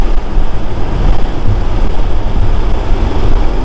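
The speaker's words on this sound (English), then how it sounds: "I hope you heard that noise of the wind that I was talking to you about" Wind roars and buffets around a Porsche 911 Targa 4S cabin while driving, a loud, broad, continuous rushing noise that swells and dips unevenly throughout, with no talking.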